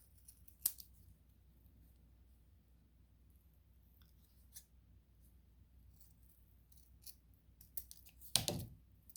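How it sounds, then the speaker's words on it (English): Scissors cut fabric around a paper pattern, giving a sharp snip near the start and a louder crunching cut near the end, with quiet room hiss between and no talking. "take your scissors, hold this on here, and cut around the outside of that dark line"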